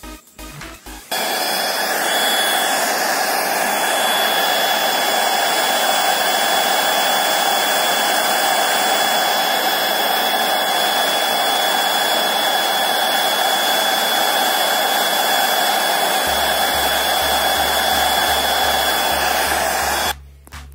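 A hair dryer modified into a heat gun blasts air in one long, loud, steady roar with a thin whine on top, starting abruptly after a brief clatter and cutting off near the end, close up and without speech.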